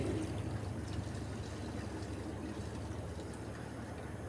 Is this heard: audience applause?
no